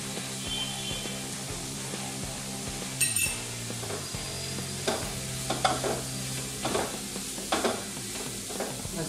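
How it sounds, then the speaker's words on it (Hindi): Red chili powder and pav bhaji masala being stirred and mixed on a hot tawa for vegetable butter tawa pulao: a steady sizzle with scraping strokes and occasional metallic clinks of the spatula, over a faint tonal background. "मसाले को अच्छे से मिक्स करके लेना है"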